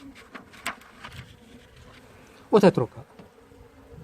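Honey bees buzz in a beehive during a natural varroa mite treatment, a low hum beneath someone speaking in Arabic with a brief louder burst partway through.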